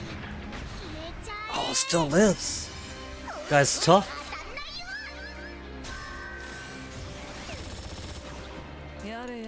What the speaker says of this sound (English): Massive cannon against helicopter.